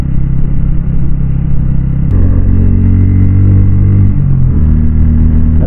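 A car descending a mountain ghat road, its engine a loud steady low rumble with shifting tones as it holds speed downhill, close and continuous.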